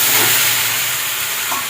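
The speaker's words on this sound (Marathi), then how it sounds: "त्यानंतर मग आपल्याला हे सगळे वांगे भरून घेतलेले याच्यामध्ये सोडायचे" Stuffed brinjals dropped into hot oil seasoned with cumin and turmeric set off a loud, dense, continuous hiss of sizzling that holds steady and close throughout, with no voices.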